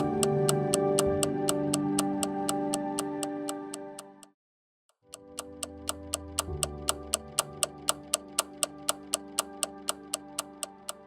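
An old clock ticks steadily in a bright, regular rhythm, close and clear, cutting out into silence for a moment before the even ticking resumes alone.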